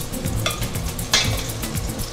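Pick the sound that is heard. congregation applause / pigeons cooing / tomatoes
tomatoes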